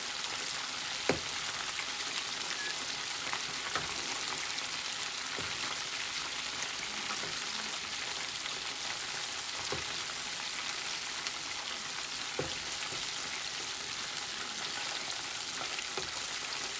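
Mac and cheese balls deep frying in hot oil, a steady dense crackling sizzle with occasional sharper pops, loud and close, continuous throughout with no talking.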